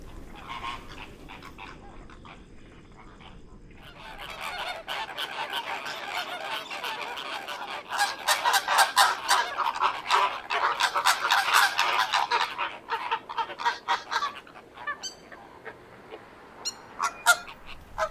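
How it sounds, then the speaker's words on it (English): A flock of flamingos calls from a swamp in Sardinia, a not-too-distant chorus of goose-like honks. The calls build from scattered cries into dense overlapping clamour and then thin out again, with no voices. "I notice a flock of flamingos in the swamp not too far from me"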